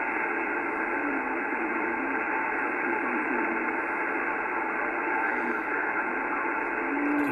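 A weak distant amateur radio station comes through a receiver narrowed to a 2400 Hz bandwidth. It sits buried under a constant loud hiss of static that does not change for the whole stretch.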